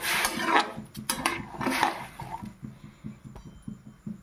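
Potatoes and peas being stirred in a cooking pot, with clinking and scraping bursts in the first two seconds, then softer rhythmic knocks and a faint wet, bubbling texture.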